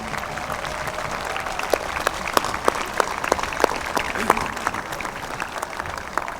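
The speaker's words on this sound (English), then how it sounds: "Please give a round of applause to the teachers, administrators that have dedicated their life's work to the education of children of Quincy." Steady applause from a large audience at a 2023 high school graduation ceremony, honoring teachers, a continuous wash of many hands with sharper individual claps popping out, plus faint crowd murmur and voices.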